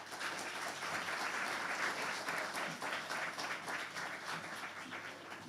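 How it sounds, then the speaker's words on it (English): Steady audience applause at a World Refugee Day celebration, a dense wash of many hands clapping continuously at moderate level for the whole stretch without fading. "I think we should give one more round of applause"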